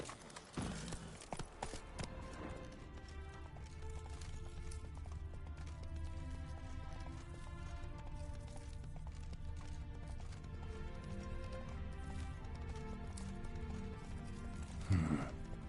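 Rhythmic hoofbeats of a galloping horse in The Witcher 3: Wild Hunt keep up a steady pace under a layer of ambient music and noise, with a louder thump near the end as the horse collapses.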